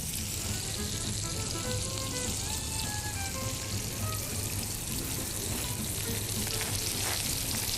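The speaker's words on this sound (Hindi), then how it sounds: "थोड़ा सा इस मसाले को भूनेंगे" Ground cumin, red chili, coriander and turmeric fry in hot oil in a pan, a steady dense sizzle that continues evenly and close throughout with no pauses.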